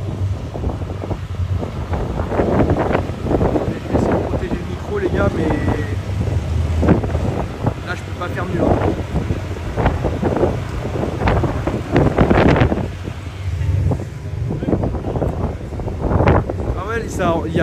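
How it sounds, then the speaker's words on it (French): Strong wind batters a camera microphone at a high vantage point at Daikoku in Japan, producing a constant loud rumbling roar with gusty bursts, while someone talks through it. "Il y a vraiment du vent à fond les mecs là,"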